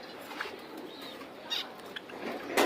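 Silver jaba pigeons flutter their wings in short soft bursts at close range, mixed with faint coos and light rustling against a quiet background.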